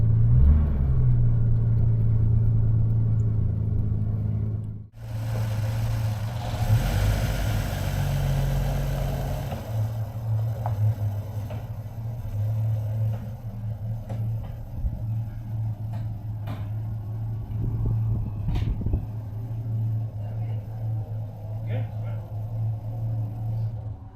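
An Allegro Estate's engine idles steadily after a start on choke, a close, continuous low rumble with a brief dip partway through, while people talk nearby.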